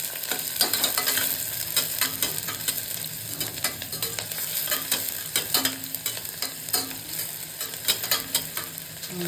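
Half an onion sizzles steadily in hot oil in a pan, with repeated scrapes and clinks of a spatula stirring it throughout; no one speaks.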